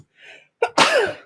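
A single close, sharp human sneeze with a short intake of breath before it, loud and alone during a live Christmas mail-opening chat.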